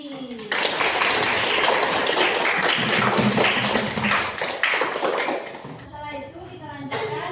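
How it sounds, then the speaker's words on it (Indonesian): Grade 4 children in a primary-school fiqh lesson on the Duha prayer clap for classmates who answered, a dense, steady round of applause filling most of the moment before fading near the end. "Kasih aplaus untuk teman-teman yang telah menjawab tadi."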